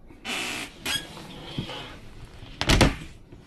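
A squeaky caravan door that is tricky to open creaks in two bursts: a long high squeal early on, then a louder grinding creak near the end, heard close with no talking.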